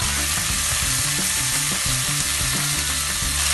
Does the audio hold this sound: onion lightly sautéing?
yes